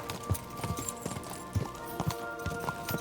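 Horse hooves clip-clop in a steady, fairly quick rhythm in the video game Kingdom Come 2, with a faint musical hum running underneath.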